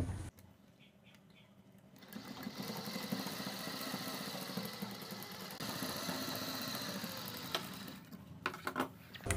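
A sewing machine runs steadily for several seconds, stitching the outer side of a kurti neckline with an anchor-thread shower neck design, after a quiet start and with a faint voice briefly present.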